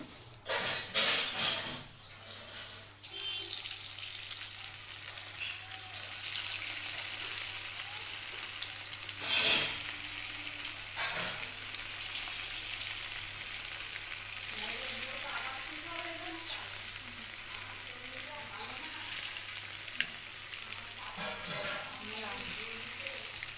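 Spice-coated chicken kebab pieces deep fry in hot oil, giving a steady, close sizzle with occasional louder crackles and clatters.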